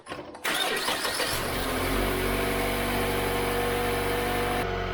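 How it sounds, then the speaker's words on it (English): A Mazda Skyactiv engine, just fitted with a new tensioner, serpentine belt and water pump belt, cranks briefly, then catches and settles into a steady, close idle hum that continues to the end. "I'm going to go start the engine."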